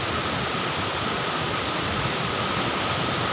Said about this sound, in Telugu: మొత్తానికి మనం అనుకున్న సాధించాం, కైగల్ జలపాతానికి వచ్చాం.